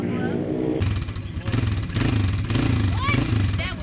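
Dirt bike engine running nearby with a steady low rumble and occasional revs, while a person talks over it.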